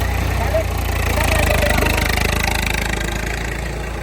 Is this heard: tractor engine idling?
yes